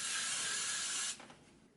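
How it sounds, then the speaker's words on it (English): Freezing blast hair spray is sprayed around a ponytail in one sustained close hiss lasting about a second, then cutting off into a faint fading tail. "I'm gonna spray my freezing blast spray around the ponytail, on the hair so it could stick."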